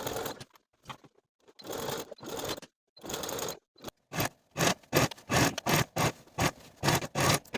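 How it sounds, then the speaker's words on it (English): A sewing machine stitches sleeves in place on a dress with a 3/8 inch seam allowance, running in short bursts of stitching with pauses between, then faster, evenly spaced runs toward the end. "Sew both of your sleeves in place with a 3/8 inch seam allowance"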